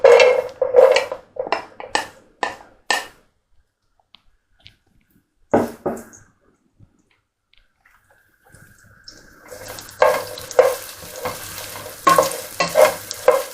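Onion stirred in a pot of hot oil, with a run of sharp scraping and clattering strokes at first, a near-silent pause with a single knock, then a rising sizzle under renewed clanking stirs, all close by.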